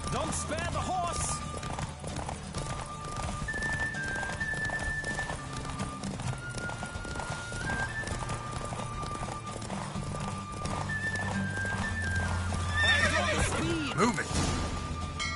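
A horse whinnies over a rapid, driving gallop of hooves during a race in The Witcher 3, the clip-clop loud and constant while voices shout over it and music plays.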